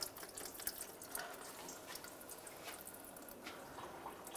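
Transfer case fluid from a 2007-2013 Chevrolet Silverado trickles into a drain bucket, a faint, steady pour with scattered drips, no voices.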